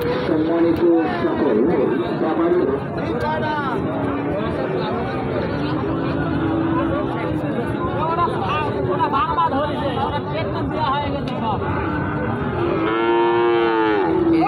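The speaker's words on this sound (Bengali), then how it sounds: "আর এ পাশটাতে আবারও ষাঁড় একটা ফ্রিজিয়ানের" A young Friesian bull, about six months old, moos loudly and repeatedly at a busy open-air cattle market, its drawn-out calls rising over steady crowd chatter and people talking nearby.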